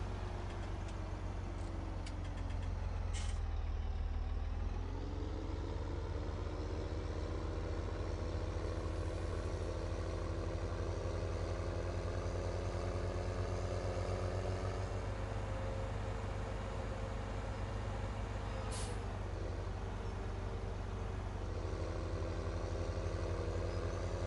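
A tractor engine in Farming Simulator 2017 drones steadily while pulling a trailer, with a constant loud low rumble and little change across the whole stretch.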